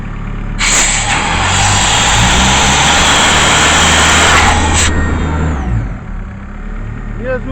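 An Atmos PDP 28 rotary air compressor starting in winter: a steady, loud mechanical drone with a broad hiss runs for several seconds, then the hiss cuts off and a lower hum continues.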